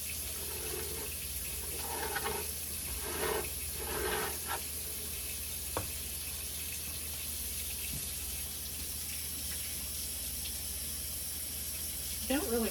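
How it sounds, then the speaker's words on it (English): Hot tap water runs under a sink faucet over a cake-decorating spatula, a steady hiss from start to finish with faint clinks and murmured voices in the background. "when I heat it up with underneath the hot water"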